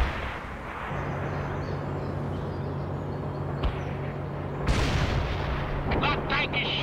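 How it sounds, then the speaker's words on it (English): Tank cannon fire in the World in Conflict battle game: a steady roar of booming artillery-like blasts and rumble, with a sharper burst near the end, continuous and loud throughout. "That tank is shooting at us!"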